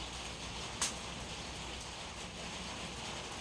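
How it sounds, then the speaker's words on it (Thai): Soft, steady rain patters continuously at a low level, with one brief sharp tick near the start. "ฝนมาอีกแล้วค่ะ"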